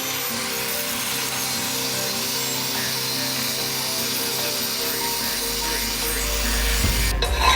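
Filing the end of a steel pipe with a half round file during welding prep, a steady dry scraping rasp repeating close up for the whole stretch, with a louder rough grinding swell near the end.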